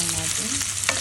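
Onions and garlic fry in a pan while being stirred, a close, continuous sizzle with a few light scraping touches of the utensil.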